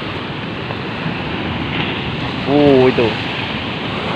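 Ocean surf on a beach makes a continuous rushing roar mixed with wind noise, while a person speaks briefly partway through.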